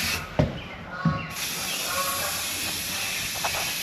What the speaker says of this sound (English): This is my first time spray painting.